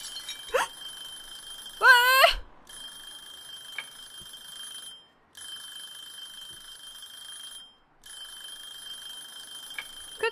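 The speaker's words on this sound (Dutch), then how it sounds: "Gaat die timer vanzelf uit?" A kitchen timer alarm in the Cooking Simulator video game rings in a sustained electronic tone, cutting out twice in short gaps before resuming, with a brief louder chime burst near the start.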